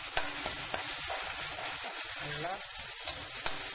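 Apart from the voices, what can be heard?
sautéing ground coconut, fennel and poppy seed paste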